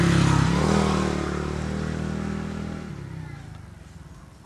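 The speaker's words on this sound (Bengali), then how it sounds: "হঠাৎ করে মোটরসাইকেল যাওয়ার কারণে একটা শব্দ হলো" A motorcycle goes by close, its engine loud at first and then fading steadily as it moves away.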